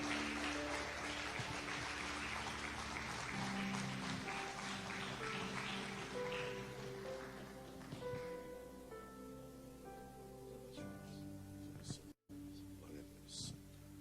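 A church congregation applauds, a dense patter of clapping that fades out over several seconds as sustained organ or keyboard tones carry on beneath and a voice speaks.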